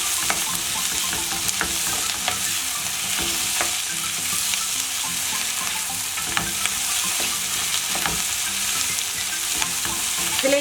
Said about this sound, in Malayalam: നമുക്കിതൊന്ന് ഇളക്കി കൊടുക്കാം.